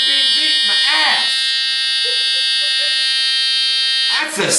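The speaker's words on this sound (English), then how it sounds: "Your ADT photoelectric alarm." An ADT photoelectric fire alarm sounds during a test with a loud, piercing continuous electronic tone, while a voice shouts over it near the start and end.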